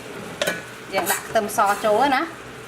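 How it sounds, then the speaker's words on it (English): Garlic hits a hot wok for a shrimp stir-fry, giving a soft sizzle with a spatula scraping and stirring in short bursts, while a person talks over the cooking nearby. "Now we're gonna add in our garlic."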